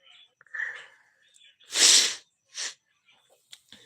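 A single sharp sneeze from a person with a cold bursts out up close, preceded by a brief sharp inhale and followed by a smaller sniff in an otherwise quiet room.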